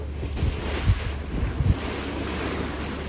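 Ocean waves splash against the hull of a ship at sea, a steady rushing wash under wind noise with a few low, heavy thumps as water strikes the side.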